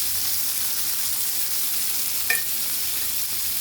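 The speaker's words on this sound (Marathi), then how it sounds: "फक्त हळद, मीठ, तिखट आणि थोडा रवा लावलाय. किती भारी फ्राय होते बघा." Bombil fish coated in turmeric, salt, chili and semolina shallow-fries in a little oil on a tawa, making a steady, even sizzle throughout with one brief click near the end.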